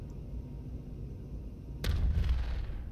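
A weapon fires once in the Space Engineers survival game, a sudden loud boom cutting in over low background rumble and ringing out briefly.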